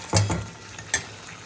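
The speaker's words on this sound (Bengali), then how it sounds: "আস্তে আস্তে কষুক মাছটা" Koi fish frying slowly in spice paste gives brief soft sizzles and stirring scrapes in a quiet kitchen, two short bursts near the start and one more shortly after.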